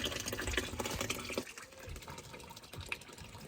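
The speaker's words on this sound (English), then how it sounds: "Excuse me filling up the water while talking to you guys." Water runs steadily into a container at an outdoor horse show, a soft continuous gushing that pauses briefly and then continues.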